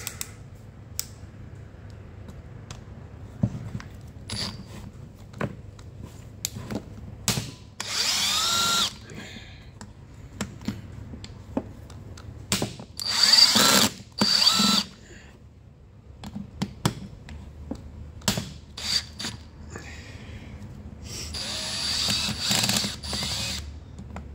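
Bursts of a power tool or impact driver loosening tight bolts on a Stihl MS390 chainsaw motor during a rebuild, several whirring runs of a few seconds each, close up, with clicks and handling noises between them.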